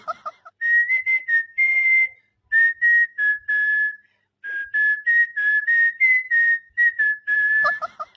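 A person whistles a lively tune close up, a series of short clear notes in quick phrases with brief pauses between them, no talking.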